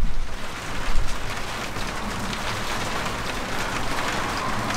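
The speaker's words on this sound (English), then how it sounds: "Oh, and now all of a sudden it started raining." Steady rain pattering on a skoolie bus under conversion, a dense continuous hiss of droplets that holds even for the whole stretch, fairly close.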